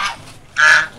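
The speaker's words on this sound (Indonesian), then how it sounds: "Angsa." A goose at a flower-garden agritourism farm in the mountains of Banyuwangi, penned near turkeys, lets out two loud, close, nasal honks in quick succession.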